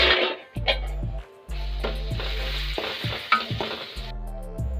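Cooked rice stirred and mixed through a seasoned mixture in a pan, a spoon scraping in repeated strokes over a steady loud sizzle, close and alone with no voices.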